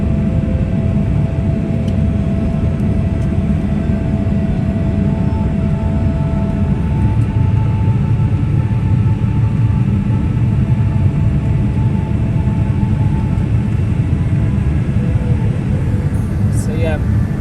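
Inside a Vistara airliner cabin during takeoff, a low, steady engine rumble and airflow roar fill the background evenly, while someone talks over it close by.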